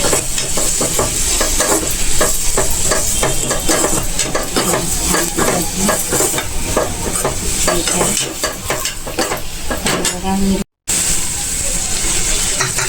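Garlic sizzles and fries in a pan for a home-style paneer masala, a steady loud crackling hiss with frequent stirring scrapes throughout, briefly cut near the end.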